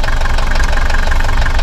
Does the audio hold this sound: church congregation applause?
no